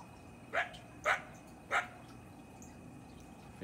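Three sharp coyote barks spaced about half a second apart, fairly distant, followed by quiet outdoor background.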